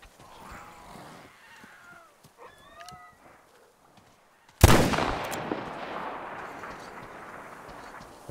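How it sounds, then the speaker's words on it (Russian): In the game Metro Exodus, one sharp, loud gunshot cracks out partway through and leaves a long echoing tail, after a quieter stretch of faint game sounds and bird-like calls. "Четкий, я бы сказал, выстрел. Слышно прям вообще."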